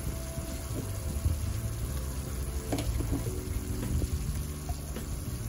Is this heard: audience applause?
no